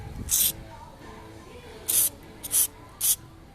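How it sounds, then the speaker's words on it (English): Four short bursts of aerosol cleaner hiss close by on a 2011 Mustang GT engine, one near the start and three more in quick succession after a pause. "Now I'm going to spray this"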